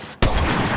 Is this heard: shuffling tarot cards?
no